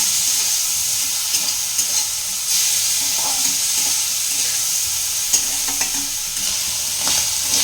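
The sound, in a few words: lightly frying and stirring snails in a pan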